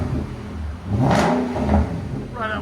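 A Nissan Armada 5.6L V8 with a MagnaFlow dual exhaust is given gas. The engine climbs into a loud rising rev, dips back, then surges again. A short voice is heard at the very end.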